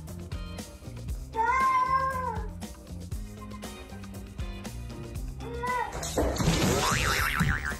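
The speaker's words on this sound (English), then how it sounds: "when she opens her mouth and meows," A cat gives a few drawn-out meows over busy background music with a thumping beat, including one clear, loud wavering meow early on and a shorter one later, followed by a noisy burst of sound effects.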